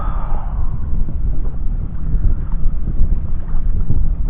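A Perception Outlaw fishing kayak is paddled into the wind on open water, with a steady rush of wind buffeting the microphone and soft irregular splashes and sloshing from the strokes, heard up close.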